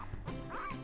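One-week-old husky puppy letting out a couple of short, high yips close up, brief and fairly loud, with faint room sound around them.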